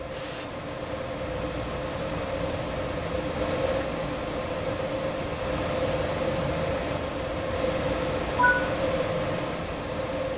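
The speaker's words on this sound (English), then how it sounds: "Disembark the cab and head to the rear of the locomotive to perform the couple up." Steady rumble of a locomotive and wagons standing during coupling in Train Sim World 3 on the Rhein-Ruhr Osten route, with a low hum and continuous noise throughout and a brief faint clank near the end.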